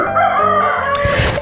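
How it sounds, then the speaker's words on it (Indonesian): A rooster crows loudly and close by, one long drawn-out call that breaks off near the end. "Ayam sialan itu diam ya kan"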